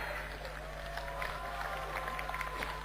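A dense wash of applause fills a convocation hall, steady and crackly from a large audience, sustained at an even level throughout.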